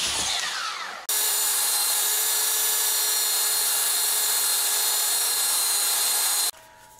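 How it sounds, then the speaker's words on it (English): A belt sander grinds steadily against a bushing for about five seconds, a loud continuous whine with abrasive hiss, starting and stopping abruptly, with no talking. "let me put the belt sander on this and sand it down just a little bit"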